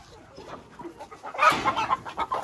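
Several hens cluck and murmur close by while being fed fresh grass, in soft irregular bursts that grow busier and louder midway.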